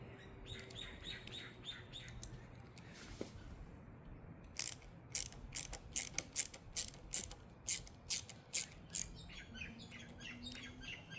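A bolt on a Honda GB350c wind visor bracket is turned with a ratchet, a run of crisp, evenly spaced clicks close by, with quieter handling and birds chirping faintly outdoors.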